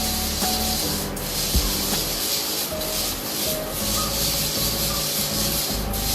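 Coffee beans being stirred while roasting on a kamado grill: a continuous rustling, scraping rattle of beans churning against the roasting surface, close and steady, with a few faint knocks.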